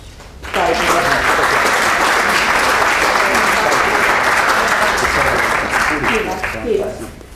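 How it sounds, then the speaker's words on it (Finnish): A seminar audience at a Finnish session on municipal wellbeing management bursts into applause after a short quiet start. The clapping is loud and sustained for several seconds and thins slightly near the end. "Ja annetaan vielä aplodit"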